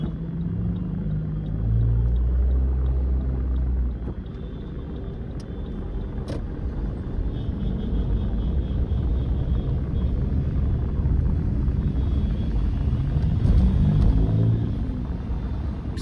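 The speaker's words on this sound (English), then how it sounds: "Now you got the long caravan of cars." A long caravan of cars rolls past on a city street at a school walkout protest in Portland, Oregon, a continuous low rumble of engines and tires swelling and easing with no talk.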